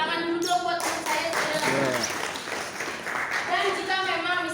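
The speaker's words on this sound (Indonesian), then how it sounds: "Tepuk tangan dulu dong buat teman saya." An audience gives applause for a volunteer at an earthquake safety demonstration. Clapping of moderate strength runs throughout, mixed with voices talking over it.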